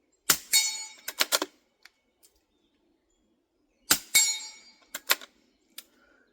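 Quiet low-powered rounds strike a steel target in two separate bursts of several sharp metallic clangs and pings, each ringing briefly before fading into near silence.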